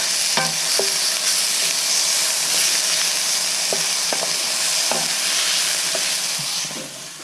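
Chilies sizzle in a frying pan aboard a widebeam canal boat, a loud continuous hiss broken by several sharp scrapes and clinks of a utensil stirring.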